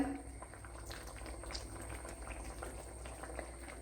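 Okra curry boiling in a pan, a steady close bubbling and soft popping that runs evenly throughout with no talk.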